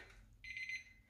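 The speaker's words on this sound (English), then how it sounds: "oh, there's the timer." A cleaning timer goes off in a living room: a short burst of rapid electronic beeps sounds after a quiet pause, moderately loud and alone.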